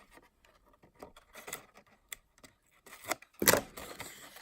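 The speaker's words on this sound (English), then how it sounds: "take your scissors and just lift off the top portion" Scissors snip through the cardboard top of an Abstract Impressions bath bomb box, a series of quiet scratchy cuts building to a louder, sharper crunch near the end, with no voices.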